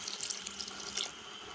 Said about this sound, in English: So I have just 1 cup of water, which I'll be adding inside the pot.